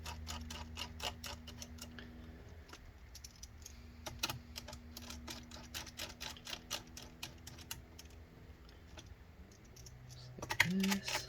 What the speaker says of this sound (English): Put back those 4 screws.